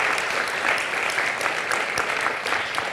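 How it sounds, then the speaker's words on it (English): Sustained applause from a conference audience for a high-level panel on regional energy cooperation, a dense, steady clatter of clapping hands throughout, with no voices rising above it. "our high-level panel deserves a round of applause"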